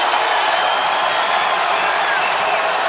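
Dense crowd roar fills a basketball arena during a tense late-game moment between VCU and Richmond, a steady loud wash of cheering and whoops with no break.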